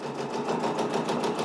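A Brother PRS100 embroidery machine stitching black Madeira thread, a rapid steady mechanical chatter with an even rhythmic pulse, close by and moderately loud.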